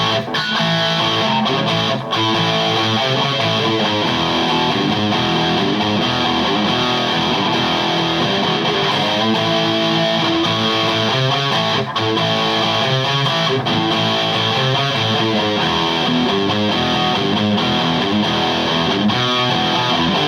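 Electric guitar played through Peavey 5150 and Fender 5150 III amplifiers set almost identically with presence low, producing a dense, continuous wall of heavily distorted riffing at a loud, even level with no talking.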